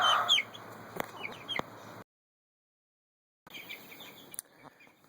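Young meat chickens about three weeks old, just getting their feathers, cluck and peep nearby in short bursts, with a silent gap midway before the calls resume.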